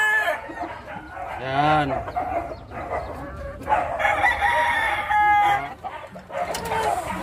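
A pure Boston gamefowl rooster in a gamefowl yard crows loudly and nearby in drawn-out calls, with clucking from other fowl and a brief spoken word.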